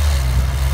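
A Chevy snow plow truck's engine runs in a steady low rumble while clearing snowbanks in a driveway, loud and close for under a second with no talk.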